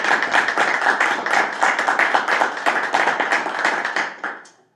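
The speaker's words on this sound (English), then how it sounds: "I would ask for a round of applause for him." An audience at a public health and safety committee meeting applauds a departing colleague with dense, steady clapping that holds at full strength for about four seconds, then quickly fades to silence.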